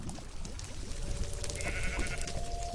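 Sheep bleat in the Minecraft video game, a short wavering bleat rising over a busy background of game noise, with no talking.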